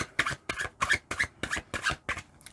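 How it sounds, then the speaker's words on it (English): Tarot cards are shuffled in quick, even bursts, about seven crisp papery riffles in a steady rhythm, fairly faint and close, with no talking over them. "I'm trying to shuffle the cards"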